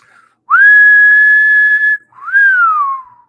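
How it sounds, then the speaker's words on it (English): A person whistles two loud, clear notes up close: a long steady tone held for about a second and a half, then a shorter note that rises and slides downward. "give me a whistle"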